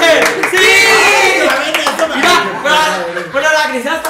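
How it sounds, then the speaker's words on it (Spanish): One person claps during a lively chat among several young women, with a short burst of hand claps mixed in among loud overlapping voices and laughter. "Pero la gris hasta aplaudió."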